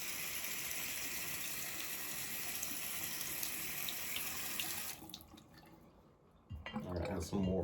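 Tap water runs steadily from a faucet into a sink to rinse a shaving razor, a loud continuous broadband gush that cuts off, leaving a brief lull before splashing and handling noises resume close by.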